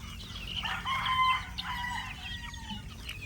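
A stag rooster crows once at moderate distance, a drawn-out call followed by softer clucking and other fowl sounds over a constant low hum, with no voices.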